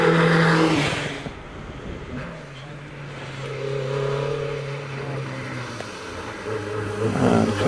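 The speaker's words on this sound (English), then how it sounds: "Neil Brogdon comes out of Pardon in the Peugeot 205" A Peugeot 205 race car pulls away up a hillclimb course at Prescott, its engine note rising and falling through gears at moderate distance, with a commentator talking over it.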